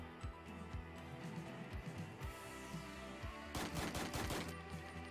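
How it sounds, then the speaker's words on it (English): Rapid bursts of gunfire in the Door Kickers: Action Squad video game, a run of sharp repeated shots with a dense flurry toward the end, heard alone without talk. "he's shooting the girl."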